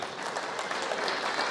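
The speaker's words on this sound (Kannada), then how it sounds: "ಚಪ್ಪಾಳೆಗಳು ಮೀಸಲಾಗಿದೆ." A village crowd applauds at the inauguration of a school memorial to a martyred army captain, the clapping dense, continuous and fairly close, with no talk over it.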